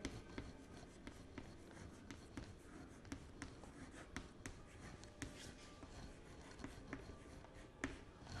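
A pen scratches on paper at close range in soft, repeated strokes and taps while small packet shapes are drawn, quiet and steady with no talk.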